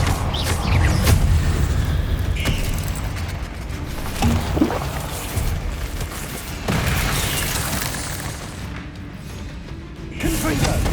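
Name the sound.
Confringo fire spell blasts in video game Hogwarts Legacy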